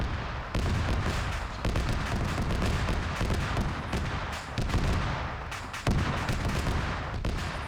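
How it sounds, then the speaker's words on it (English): Ammunition cooking off in a video game, a sustained barrage of rapid explosive cracks and booms, loud and continuous with repeated sharper bursts throughout. "it's ridiculous that that thing is still exploding"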